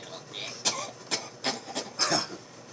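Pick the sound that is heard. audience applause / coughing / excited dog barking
coughing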